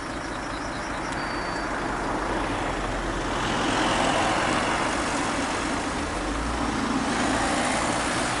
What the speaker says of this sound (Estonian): Autod tulevad tagant.